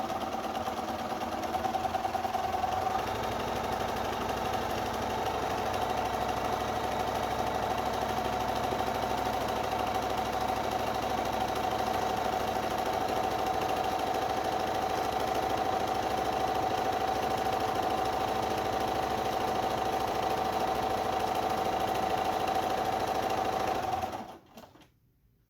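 A sewing machine runs steadily during free motion quilting, with a continuous close motor hum and rapid needle stitching that holds for about 24 seconds, then stops abruptly.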